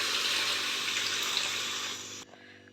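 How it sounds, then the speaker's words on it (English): Water poured into a pan while cooking soya mango pulao, a steady, close rushing stream of liquid lasting about two seconds before cutting off to quiet kitchen background. "Now I am going to add water."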